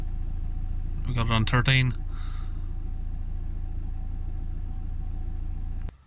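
A Ford Transit Custom 2.2 diesel van engine idles with a steady low rumble throughout, briefly under a voice, until it cuts off abruptly near the end.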